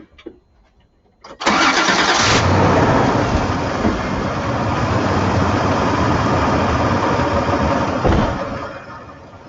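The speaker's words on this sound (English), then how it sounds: "now that I got the keys, I'll start the car" A manual-transmission car with a previously dead battery being started after a jump, a brief cranking burst catching into a loud engine roar that settles into a steady close idle.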